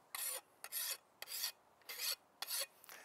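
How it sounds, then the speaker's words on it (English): A hand file sharpens the blade of a hula hoe, making six close, rasping strokes in a steady back-and-forth rhythm, each one a gritty scrape separated by brief pauses, with no speech. "I tend to sharpen the tool before I go out and use it"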